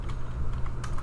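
Computer keyboard typing, a few light key clicks over a low background hum, brief and fairly quiet.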